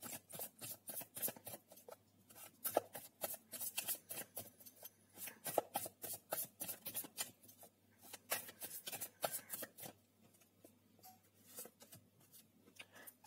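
A deck of tarot cards is shuffled by hand at close range, giving quick soft riffling and flicking bursts in uneven clusters with brief pauses, fairly quiet with no talking over it.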